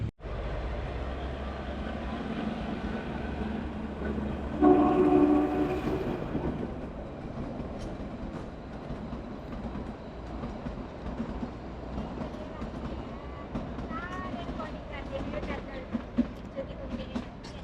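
A toy train passes along the line with a continuous low rumble and clatter, swelling briefly as it goes by, while people talk nearby.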